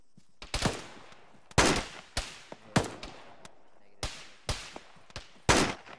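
Sporadic gunfire in a military video game, with about eight sharp, loud shots coming singly and in short clusters at irregular intervals, carrying over quiet gaps.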